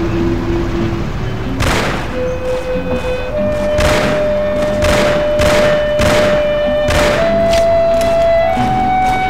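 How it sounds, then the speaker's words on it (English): Shotgun blasts boom in the video game Mafia, a rapid string of about eight loud, heavy shots spaced roughly a second apart over a steady in-game engine drone. "Meet my giant shotgun, policeman."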